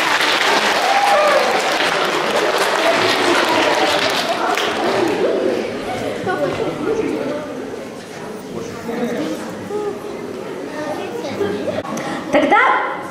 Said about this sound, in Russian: Аплодируем, ребята.